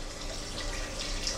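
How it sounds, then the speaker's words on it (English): Water poured into a soup pot holding onion and garlic, a steady, close rushing splash lasting a moment with no talk. "we're going to add our 3½ cups of water"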